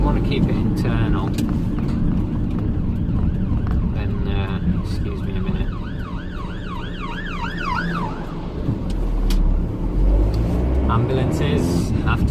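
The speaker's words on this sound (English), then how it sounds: "I just heard an ambulance here." An ambulance siren wails in rising and falling sweeps on a busy road, loud over traffic noise, while a person talks throughout.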